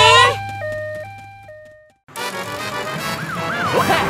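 An ambulance siren in a children's cartoon about working vehicles sounds first as a loud stepped tone pattern, then, after a brief gap, as a wavering wail over busy music and effects.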